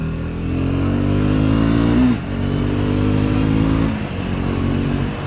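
A Triumph Scrambler 400X motorcycle pulls away on light off-road ground, its engine droning steadily and loud up close, with two brief dips around gear changes before it keeps pulling.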